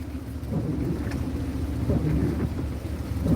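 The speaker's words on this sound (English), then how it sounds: "Got to go out here and battle through this rain" Heavy rain pours outdoors under a steady deep thunder rumble, a dense continuous wash with no talking.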